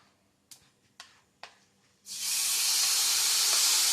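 Three light taps are followed by grated mango hitting hot oil with nigella seeds, which bursts into a loud, steady hiss of sizzling that holds until the end.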